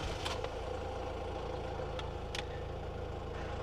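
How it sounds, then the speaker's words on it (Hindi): A Honda diesel car engine runs at a steady idle, a constant low rumble heard fairly close, with a few faint clicks and ticks above it and no talking. "होंडा का डीजल इंजन है मेरे भाई, तो आवाज़ तो करेगा ही करेगा।"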